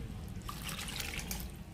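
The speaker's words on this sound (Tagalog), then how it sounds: "Tapos ngayon, lagyan ko na siya ng tubig." Water poured into a pot of menudo, a steady splashing, gurgling stream close by, continuous and fairly soft over its short span with no one talking.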